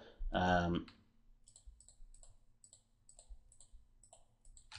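A computer mouse clicks to select images, giving a short run of light, sharp, evenly spaced clicks close by after a brief spoken word.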